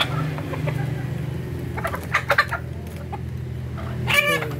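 Native chickens on a backyard farm cluck in a steady mix of short calls, with a low background hum and a louder burst of clucking near the end.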